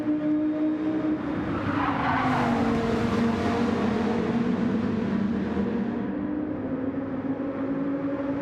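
Race cars battling for position at Fuji Speedway in a racing video game, a loud sustained engine drone with a rising and falling pitch and tire squeal, close and continuous, no voices.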